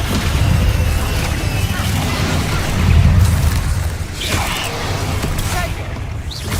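Confringo and Incendio spell blasts in the Hogwarts Legacy video game: loud, continuous booming fire-and-explosion effects that rumble and crackle and swell around the middle, with no pause between them.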